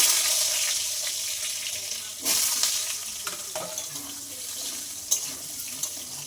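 Potatoes dropped into hot oil after a bay leaf tempering, with a steady loud sizzle and hiss filling the whole stretch, broken by a few sharper pops and stirring scrapes close by.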